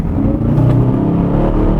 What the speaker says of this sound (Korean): 방금 팝콘까지는 아니지만 배기음이 굉장히 스포티하게 변했거든요